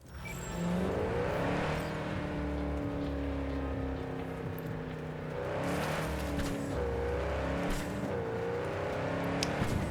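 Cars race in the futuristic video game Cyberpunk 2077, with a continuous whirring engine drone that rises and falls through several gear shifts, heard alone at moderate loudness.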